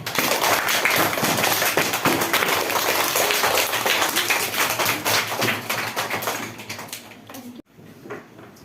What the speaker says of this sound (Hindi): कृपया तालियों से इनका हौसला बढ़ाएं